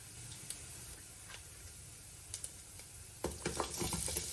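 Spices, including fennel seeds, fry in hot oil in a pan while being stirred for a pork roast, a steady soft sizzle broken by light scraping and clicking taps of the spoon, louder toward the end.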